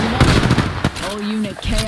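Gunfire in the video game Apex Legends, with several sharp shots cracking close in the first second, followed by a player's voice talking.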